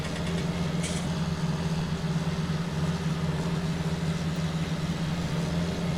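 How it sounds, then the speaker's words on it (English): A John Deere tractor engine runs steadily at a low idle-like rumble in an open farm field, a constant droning hum with no pauses or talking. "this John Deere can handle it. I love this tractor, man. Love the sound of it."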